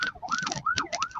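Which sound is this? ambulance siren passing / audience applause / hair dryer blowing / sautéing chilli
ambulance siren passing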